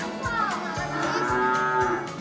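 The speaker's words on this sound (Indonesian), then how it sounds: "Sapi-sapi ini berasal dari Australia loh teman." Cattle of an Australian breed, kept on a village farm, moo nearby in one long, loud, drawn-out call that rises and falls, alone without talk.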